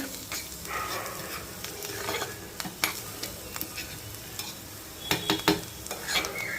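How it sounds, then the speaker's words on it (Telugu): Buttermilk being stirred in a pot in a home kitchen, a soft scraping and swishing with occasional light clinks of the utensil against the pot, steady and close with no talking. "మజ్జిగ తిప్పుతున్నానండి"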